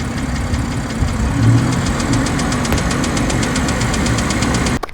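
A 2018 BMW 340i with the B58 engine running at idle after starting, a steady close engine drone with faint rhythmic ticking, loud and continuous, no voices.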